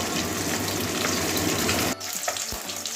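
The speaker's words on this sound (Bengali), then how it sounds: "ওইদিকেও এরকমই লাল লাল করে ভেজে নেবো" Fresh fish fries in a pan until reddish, a loud, dense, continuous sizzle close by. The sizzle briefly dips near the two-second mark before resuming, with no talking.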